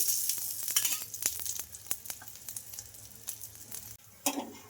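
Oil crackles and sizzles under a semiya dosa cooking in a pan, a close, uneven spitting with sharp pops that eases off and then briefly flares again.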